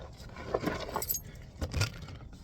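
Keys jangle close up as a small wrench is worked off a keychain, with several bright metallic rattles and clinks in short bursts. A faint car ambience sits underneath, and nobody speaks.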